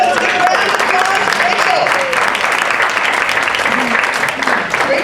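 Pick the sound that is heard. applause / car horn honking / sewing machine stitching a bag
applause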